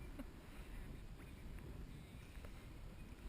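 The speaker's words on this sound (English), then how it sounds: "it is super windy" Low rumbling wind buffets the microphone in a constant roar outdoors at night while flounder gigging on Dauphin Island, Alabama, with faint clicks and knocks mixed in.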